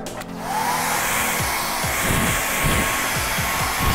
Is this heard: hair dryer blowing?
yes